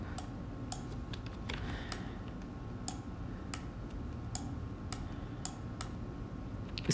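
Sharp, isolated clicks of a bracket key on a computer keyboard, pressed repeatedly at irregular intervals during photo editing, close and crisp over a steady low background hum.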